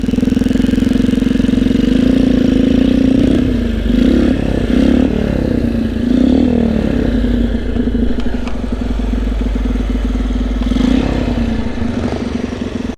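A motorcycle engine rumbles loudly nearby, idling and revving with a steady low drone and some clatter throughout.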